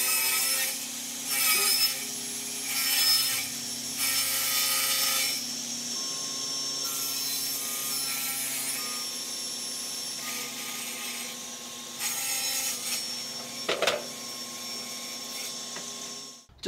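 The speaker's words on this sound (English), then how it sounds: "Going to cut my sides out of this 3/4 inch piece of birch plywood." A power saw cuts through a 3/4 inch sheet of birch plywood, a loud sustained whine with bursts of cutting noise rising and falling, close up and with no talk.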